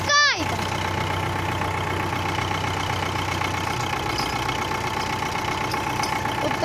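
A YuMZ tractor fitted with an SMD engine runs steadily and loudly while pulling a large post out of the ground, its continuous heavy diesel drone filling the whole stretch after a brief sharp noise at the start.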